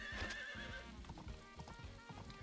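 Clip-clop of horse hooves with a neighing whinny from a horse in the Story of Seasons: Pioneer of Olive Town farming video game, steady hoofbeats continuing over background game music.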